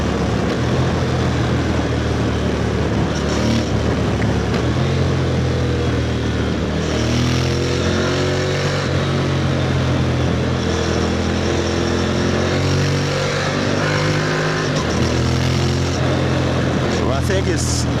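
A Honda NC750X motorcycle is ridden on the road in Lagos, Nigeria, its steady engine drone rising and falling through gear changes, heard close and continuous under wind and road noise.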